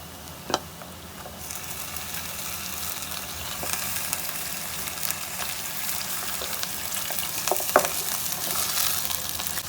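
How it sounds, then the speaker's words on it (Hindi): Beef pieces frying with onions in a pan for karahi gosht give off a steady, fairly loud sizzle, with a few sharp clinks of stirring near the start and toward the end. "एक से 2 मिनट गोश्त को फ्राई कर लिया"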